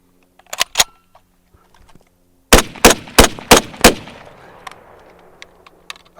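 Several loud, sharp SKS rifle shots fired during a bull hunt: two quick reports, a pause, then five evenly spaced shots with a short ringing tail, all close to the microphone and without talk.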